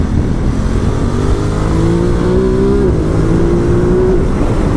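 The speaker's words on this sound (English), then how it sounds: "And I can't tell how hard I'm revving it." A 2018 Ducati Multistrada 1260S motorcycle engine revs hard during a test ride, its loud, steady roar rising in pitch and then falling back before climbing again, over constant wind rush.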